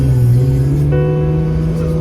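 Sports car engine from an exotic car dealer: a loud, close, steady droning hum with strong low harmonics, shifting slightly in tone partway through, with someone talking over it.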